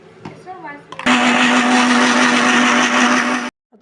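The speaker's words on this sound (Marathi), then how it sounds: "हळदी पावडर घाता थोडोसो आनी मागीर तें ग्रायंड करपाचें परतून" A mixer grinder whirs loudly and steadily for about two and a half seconds, grinding a turmeric-spiced paste for a sweet and sour carrot pickle, then cuts off abruptly.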